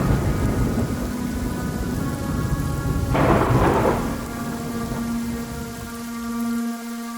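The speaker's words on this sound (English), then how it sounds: "the rain turned into a mighty storm" A deep rolling rumble of thunder builds and fades over a steady hiss of heavy rain falling.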